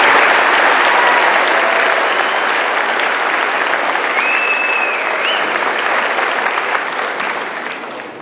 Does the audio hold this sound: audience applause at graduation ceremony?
yes